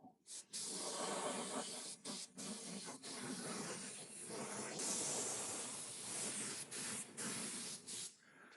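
An air spray gun fed at about 100 psi sprays burnt sienna patina paint, a loud, close continuous hiss broken by brief pauses between bursts.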